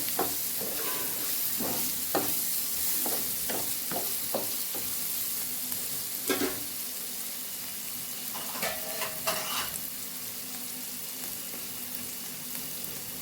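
A quiet steady sizzle of colocasia stir-frying in a pan, broken by irregular clinks and scrapes of a spoon stirring, close by with no talking.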